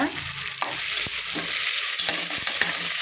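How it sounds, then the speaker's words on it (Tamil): Onions sauté in a pan with a close, bright sizzle, broken by several knocks and scrapes of stirring. No voices are heard. "இப்போ நல்லா வதங்கணும் பாரு"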